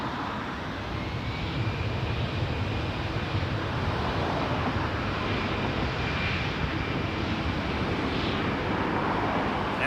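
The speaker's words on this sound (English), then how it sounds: "Headed to Orlando on an Air Canada 157, A320." An Air Canada Airbus A320 jet bound for Orlando takes off from runway 23 at Toronto Pearson, its engines giving a steady, loud, broad roar that holds for about ten seconds with no voices.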